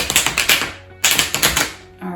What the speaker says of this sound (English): This one's called a bridge shuffle. It's a little loud